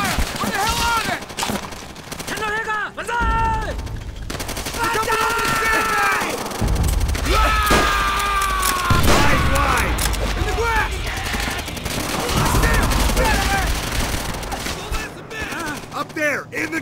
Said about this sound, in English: Shit! Sniper fire! Where the hell are they?